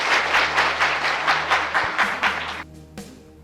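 Applause breaks out at a Hindi Ramayana quiz competition after a correct answer, a burst of rhythmic clapping that rises and then trails off into a few scattered claps near the end.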